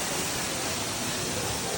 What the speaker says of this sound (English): Now we're at the waterfall,